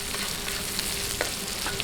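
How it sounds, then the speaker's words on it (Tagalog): Onions and ginger sautéing in a pan, a dense close sizzle with light scraping and clicks from stirring, steady throughout. "Ngayon, isunod natin yung ating sibuyas. Buhaluin lang po natin."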